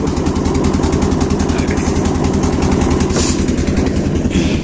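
A heavily loaded boat's engine runs loud and close on the trip home, a steady fast-pulsing throb with vibration that holds throughout.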